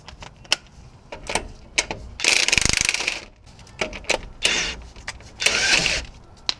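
A ratchet with a 21 socket turns bolts loose on a 2007 Ford F-150 during wheel bearing work: close, loud bursts of rapid clicking, some short ticks and several longer whirring runs, separated by brief pauses.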